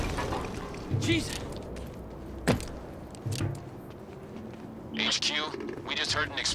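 An explosion in the video game Quantum Break, a single sharp blast that cracks out mid-clip amid scattered impacts and rumbling game noise, with no talk.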